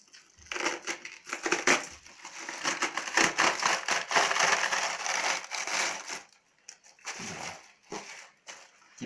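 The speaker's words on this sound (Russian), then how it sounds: "кочаны нужно надрезать возле кочерыжки, чуть-чуть вот так, и разорвать их руками" Heads of Napa cabbage are cut near the core and torn apart by hand, giving a run of close crisp cracking and splitting crunches with rustling leaves, loudest in the middle and then tapering off.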